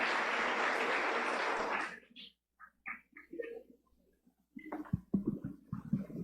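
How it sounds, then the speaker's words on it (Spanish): Audience applause for a speaker at a talk, dense clapping for about two seconds that stops abruptly, followed by quiet room sounds and then a person speaking. "Un aplauso, por favor, para él"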